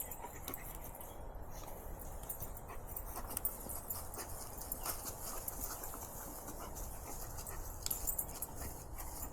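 A tracking dog pants steadily and rapidly throughout on a cool, overcast day outdoors, with soft rustling and faint hoof-like clopping mixed into a constant broadband background.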